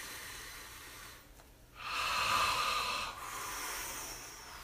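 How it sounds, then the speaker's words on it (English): A slow, deep breath drawn in and let out during a guided meditation, a soft airy hiss that swells for a couple of seconds and then eases into a long, steady exhale, close and alone without talk. "Let's take a deep breath."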